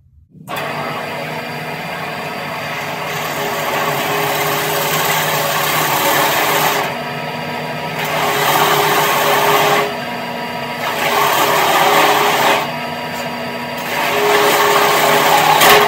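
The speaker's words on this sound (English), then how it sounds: "I'm going to go ahead and drill these holes." Power drill boring holes while building a two-cup tumbler turner, a loud high whine in several bursts, the motor dropping and surging between holes with short pauses in the steady run.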